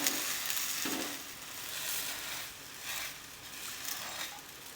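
A flipped multigrain dosa sizzling in gingerly oil on a pan, a soft, steady crackle with a few brief scraping bursts, fairly quiet and close.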